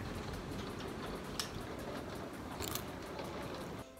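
Hail falling during a summer storm, heard from indoors as a dense, steady broadband patter of tiny impacts with a few louder bursts, continuing without pause before easing off at the end.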